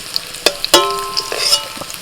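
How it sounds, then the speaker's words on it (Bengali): Chandramukhi potatoes fry in oil in a wok, giving a steady sizzle broken by a few sharp clinks and scrapes of stirring, close and clear with no talk. "আলুগুলোকে একটু লাল করে ভেজে তুলে নিচ্ছি"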